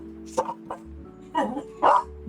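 A dog barks in a few short, sharp bursts at a squirrel outside, heard at moderate distance indoors over a steady background hum.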